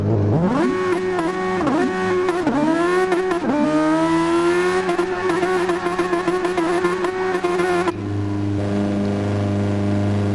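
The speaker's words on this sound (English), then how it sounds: "Got a couple of guys doing donuts on the straights by the looks of it. Just really wearing them tyres down." Formula One cars in the F1 1998 video game spin donuts at the Nurburgring, engines whining at high pitch and rising and falling in repeated revving sweeps, loud and continuous, before dropping to a lower drone near the end.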